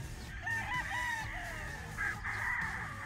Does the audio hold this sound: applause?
no